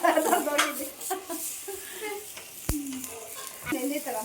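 Obbattu, a sweet stuffed flatbread, cooks on a hot griddle at night, giving a steady close sizzle and frying hiss with a few scraping stirs, while people talk over it.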